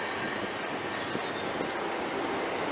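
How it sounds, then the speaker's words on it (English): A Great Western Railway service leaving Liskeard station on the Cornish Main Line, heard as a steady, broad rumble and rush with no distinct beats, loud and continuous throughout. "departing now is the 12:14 Great Western Railway service from Plymouth to Penzance"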